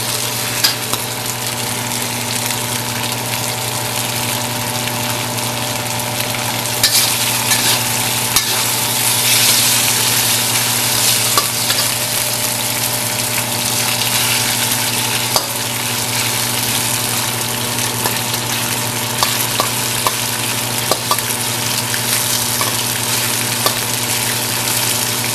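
Shrimp coated in cornstarch stir-fry fast in a hot pan, giving a loud continuous sizzle with occasional sharp spatula clicks and taps for a long stretch, no one speaking.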